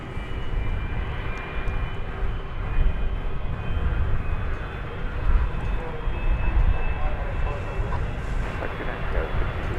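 Airbus A300 engine starting at night at DFW airport, a steady broad roar with a faint whine, continuous and fairly loud with distant airport noise.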